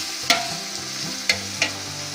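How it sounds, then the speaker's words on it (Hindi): Tomatoes and green chilies fry with spices for vegetable biryani, a steady sizzle broken by three sharp clinks of a spoon against the pan, close and clear with no voices. "ये टमाटर और सब्ज़ मिर्चें शामिल कर रहे हैं। टमाटरों को भी अच्छी तरह भूनेंगे मसाले के साथ।"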